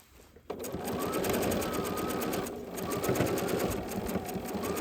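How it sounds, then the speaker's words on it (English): A sewing machine runs steadily while stitching a quilted trivet, pausing briefly for a couple of extra stitches and a pivot before continuing, close and loud with no talking. "Just take a couple extra stitches and pivot, go to the other side."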